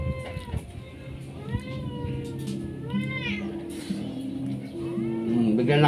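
A pet cat meows repeatedly in drawn-out, rising and falling cries close by, over a steady background hum and occasional household noise during a meal.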